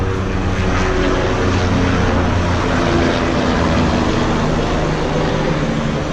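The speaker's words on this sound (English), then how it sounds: "There's a Lifeline helicopter out of Birmingham." A Lifeline medical helicopter from Birmingham drones steadily overhead near Sloss Furnaces, a loud, constant engine and rotor hum with no change in pitch or volume.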